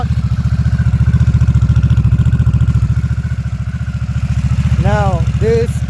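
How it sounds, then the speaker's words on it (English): A Harley-Davidson motorcycle with its stock muffler idles close by, a loud, even, rapid thumping pulse throughout, with a person briefly speaking near the end. "So this is how it sounds with the stock muffler."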